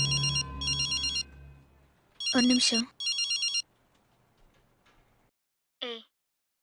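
A telephone rings in repeated electronic bursts, then a voice speaks in Tamil and a short tone follows.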